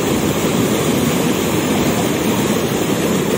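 Flood water rushes through a trout pond, a steady, loud, unbroken roar of churning water that holds even from start to finish.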